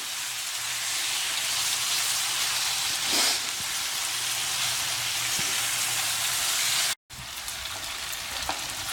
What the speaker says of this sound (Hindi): अब हम प्याज लहसुन अदरक का पेस्ट और चिकन इन्हें बढ़िया भूनेंगे।